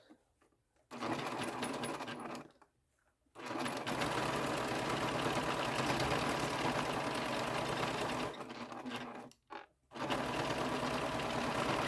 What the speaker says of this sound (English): I am going to stitch it on what the pattern calls for. And of course, back stitch.